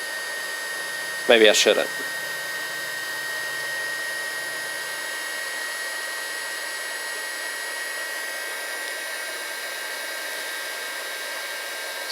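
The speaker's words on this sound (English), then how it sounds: "we'll turn this heat gun on, let it do what it needs to" A Haisstronica heat gun blows steadily on heat shrink connectors, a constant airy whir with a faint whine that runs throughout; someone speaks briefly near the start.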